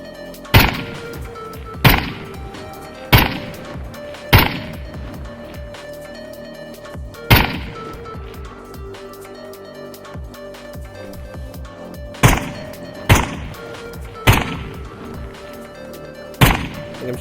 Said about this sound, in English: I think I'm shooting the tree the whole time, guys.